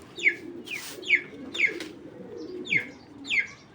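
A collected female racing pigeon, a light-coloured bird, calls in a steady series of about six short, bright chirping notes over a soft, low cooing murmur, fairly close and with no talk.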